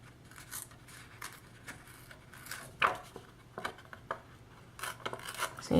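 Faux leather sheet being torn by hand in short bursts of rough ripping, with one sharper, louder tear near the middle, close and quiet, with no talking.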